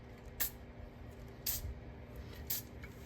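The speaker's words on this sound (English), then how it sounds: "I'll lightly spray this gasket with some of this silicone spray real quick." Silicone spray on a carburetor gasket during a 1955 Thunderbird Holley ECJ 9510 carburetor rebuild, three quick faint hissing spritzes about a second apart over a quiet background hum.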